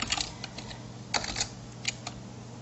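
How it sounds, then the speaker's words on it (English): Typing on a computer keyboard into form fields: a few clusters of light, close key clicks, separated by short pauses over a quiet steady hum. "I find it easier to type in the boxes on the top because I can hit tab to go to the next"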